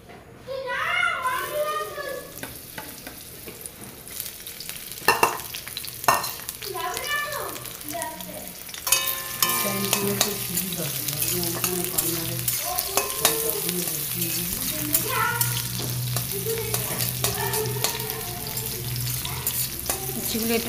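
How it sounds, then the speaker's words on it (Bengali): Bitter gourd pieces frying in oil in a wok make a continuous sizzling crackle, punctuated by stirring knocks, while children's voices chatter and play nearby. "তেল দিয়ে এবার উচ্ছেগুলি ভেজে নিই আগে"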